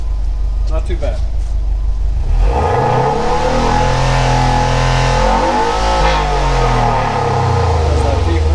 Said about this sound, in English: There's that deep rumble, well not rumble, but deep exhaust tone